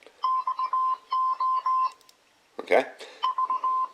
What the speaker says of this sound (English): So when you turn it on, it's going to do a little bit of Morse code.